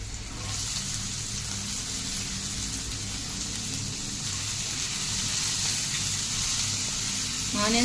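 Onions frying in hot oil with ginger and garlic, a steady, dense sizzle holding at an even level from start to finish, close up and with no talk.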